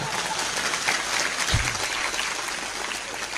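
A crowd applauding loudly and steadily throughout, with one brief low thump partway through.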